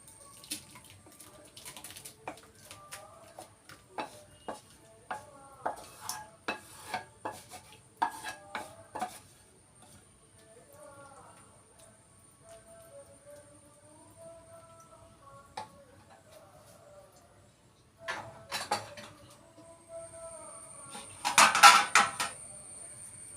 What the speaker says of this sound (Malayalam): നമുക്ക് ഈ പാത്രത്തിലേക്ക് ഇത് പകർത്താം.